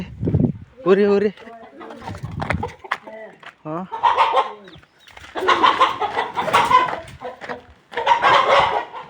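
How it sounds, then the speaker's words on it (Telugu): Village chickens cluck and squawk in short bursts close by, mixed with lively conversation between people throughout. "మీ కోళ్ళు మళ్ళీ ఎగరుతున్నారా?"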